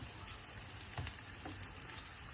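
Pieces of senai yam for varuval frying in a little oil on a flat tawa, a soft continuous crackling sizzle with a couple of light taps, close but quiet and without speech.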